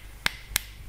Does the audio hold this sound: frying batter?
no